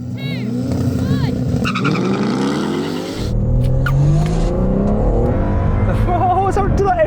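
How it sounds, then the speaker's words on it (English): Nissan Skyline R34 GT-R with about 750hp launching hard off a race start, a loud, close engine roar climbing steadily in pitch with turbo whine, continuing throughout alongside other racing cars. "That blooming GT-R just shot off."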